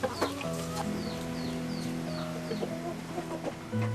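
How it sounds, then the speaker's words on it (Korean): Chickens raised by an elderly villager for eggs cluck and chatter close by, with repeated short calls over a steady farmyard background, and no voices. "닭을 키우고 계란을 걷어오는 것도 모두 양만석 어르신이 스스로 만든 일인데요."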